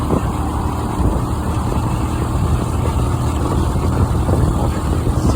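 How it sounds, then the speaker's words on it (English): A moped ridden on a bumpy road before winter in Sweden gives a steady, loud engine drone with road rumble that holds unbroken from start to end, with no voices. "And if you want to, it can be really fast as well."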